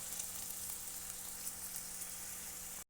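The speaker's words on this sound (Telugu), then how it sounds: "ఆనియన్స్ అనేది బాగా ఫ్రై అవ్వాలి." Onions frying in oil for a dondakaya (ivy gourd) fry, a steady close crackling sizzle that holds evenly for a few seconds before cutting off abruptly.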